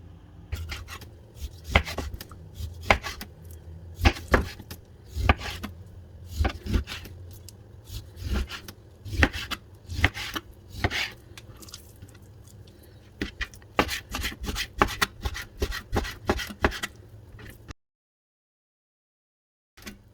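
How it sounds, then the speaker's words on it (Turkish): A knife chops beef tenderloin rapidly and repeatedly on a cutting board for çökertme kebab, irregular bursts of sharp thuds over a long stretch, then silence. "Bu mis gibi dana lokumu güzelce doğrayıp çökertme kebabımızı yapıyoruz."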